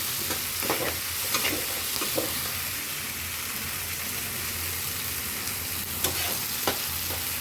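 Spinach fries with onion and dried red chilies in a pan, giving a steady, even sizzle with occasional scraping stirs. It is close and continuous, with no voice.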